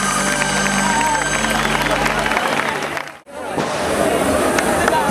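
A festival audience claps and cheers to welcome a dance band on stage, a loud continuous ovation under a voice, briefly dropping out before swelling back.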